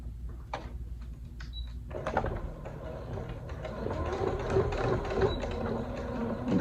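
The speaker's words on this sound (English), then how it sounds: "I'm going to be sewing right on the edge." A sewing machine stitches along the edge of a quilt binding, its motor whirring steadily with mechanical rattles and clicks, fairly close and continuous throughout.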